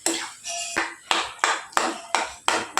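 Masala dosa filling seasoned with garam masala is stirred in a pan on a gas stove, making about seven close, loud, rhythmic scraping strokes of a utensil against the pan's metal surface, with no talking.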